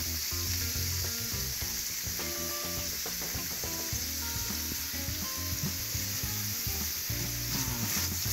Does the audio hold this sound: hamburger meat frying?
yes